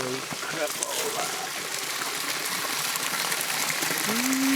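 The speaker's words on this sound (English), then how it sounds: "That's a huge waterfall." Huge waterfall in the Australian outback pouring over reeds into a rock lake, a constant broad hissing rush heard up close, with talking over the top.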